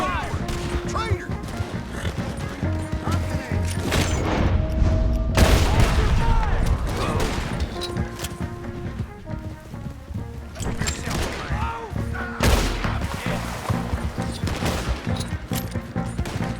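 Bursts of gunfire and heavy booms ring out during a shootout in the video game Red Dead Redemption 2, loud, repeated shots with voices speaking between them.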